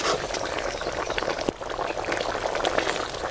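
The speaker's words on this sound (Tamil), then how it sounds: "கொதிக்கிற சத்தம் கேட்குதா?" A pot of mutton curry bubbles at a vigorous boil nearby, a dense continuous gurgle and pop, loud and alone without talk.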